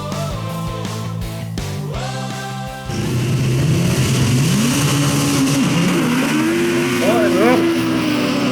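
Autograss race cars rev hard at the start of a race, engines rising and falling together loud and close, with a commentator talking over the roar.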